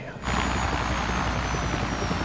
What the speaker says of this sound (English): Did he just show up to his own party in a helicopter?